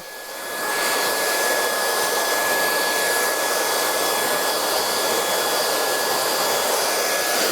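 A hair dryer blows steadily and loudly throughout, a constant whooshing roar with a faint high whine, starting just after the clip begins.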